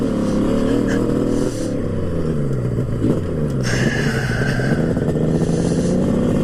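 Kawasaki H2 750 two-stroke triple motorcycle revving nearby, loud engine note rising and falling in pitch with a brief climb partway through, no talk over it.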